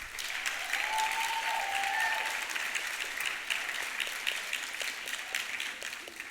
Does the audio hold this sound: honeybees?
no